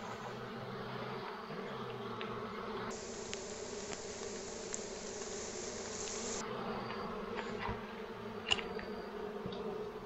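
Honeybees buzz in a steady dense drone while a hive's combs are cut for honey in a rural field in the Dominican Republic, the swarm hum continuous and fairly faint, with no talk.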